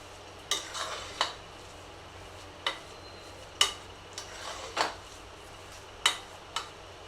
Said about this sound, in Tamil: சாதம் நல்லா குழஞ்சி ரெடி ஆயிடுச்சு இப்போ சாதம் நல்லா இந்த ஸ்டேஜில் இருக்கும் இதை வந்து நல்லா மசிச்சு விடணும்